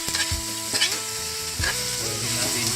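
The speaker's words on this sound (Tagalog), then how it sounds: "haluin natin yung ating pritong galunggong" Fried galunggong fish being stirred in a pan, with a steady sizzle and a few scraping strokes of the utensil over about three seconds, close and moderately loud, with no talking.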